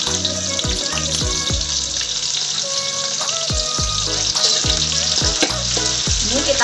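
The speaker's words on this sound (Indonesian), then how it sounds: "Ini kita goreng dulu sampai layu ya." Chili and shrimp paste for sambal fry in hot oil with a steady, loud sizzle, broken by repeated scraping stirs of a spatula in the pan.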